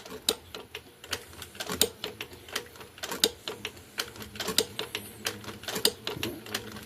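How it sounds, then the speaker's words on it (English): A sewing machine stitching a leather wallet runs in a fast, even train of sharp close ticks and clacks at a moderate, steady pace with brief pauses. "I don't like going too fast when I'm sewing leather."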